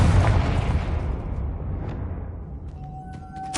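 A Confringo blasting spell goes off in Hogwarts Legacy with a loud, close booming explosion that opens the moment and then rumbles and decays over a few seconds into quieter game ambience.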